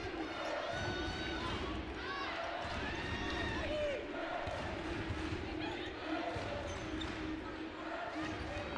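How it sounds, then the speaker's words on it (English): Sellout crowd at a women's basketball game between Stanford and Gonzaga, a constant roar of cheering and shouting with squeaking shoes and ball bounces, heard under a commentator's voice. "Another sellout crowd today."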